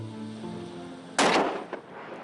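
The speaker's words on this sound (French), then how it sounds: "il faut d'abord un fusil de chasse. Je tire pour décrocher un morceau d'iceberg" A single hunting rifle shot fired at an iceberg off Newfoundland, a sharp loud crack with a brief rolling echo, standing out over a steady engine-like hum in the background.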